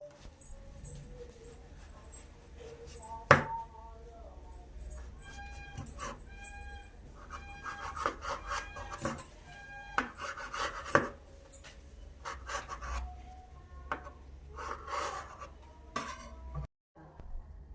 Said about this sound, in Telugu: ఇలా సమోసా సీట్లా కట్ చేసి పెట్టుకోవాలి